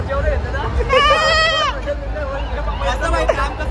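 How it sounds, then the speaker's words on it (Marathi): One goat gives a long, wavering bleat close by, then a shorter call follows, all over the steady murmur of a crowd gathered for a palanquin procession. "बकरी आली काय?"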